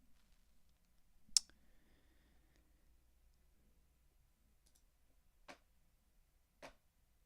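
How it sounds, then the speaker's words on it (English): Sparse one-handed keyboard typing, a few isolated clicks and taps spaced seconds apart in a quiet room, one sharper click early on. "Sorry, I'm typing with one hand."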